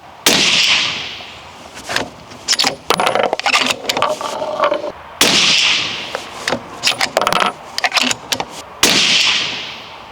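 Two sharp, loud reports from a Seekins Precision Havak Slam rifle firing 6.5 PRC Hornady 147 grain ELD Match ammunition on an accuracy test. Each crack is followed by a decaying echo and a scatter of smaller clicks and clatter.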